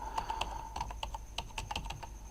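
Typing on a computer keyboard while entering a name into a Gmail account sign-up form, a quick run of distinct, close key clicks in an irregular rhythm, with no voices.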